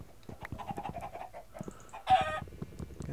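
Chicken in the video game Minecraft clucking in a few short, fairly close calls amid game sounds and background noise.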